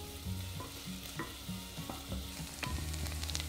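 Finely diced small onion frying in melted butter in a saucepan over medium heat, a steady close sizzle broken by repeated scraping stirs with a spoon.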